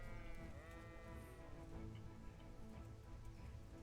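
Sheep bleat in the medieval video game Kingdom Come: Deliverance, with a wavering cry early on over a steady, busy game ambience and no talk.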